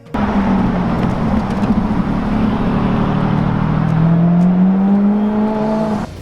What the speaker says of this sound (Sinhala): අධික වටිනාකමින් යුතු සුපිරි මෝටර රථවල එන්ජිමෙන් නිකුත් වෙන ශබ්දය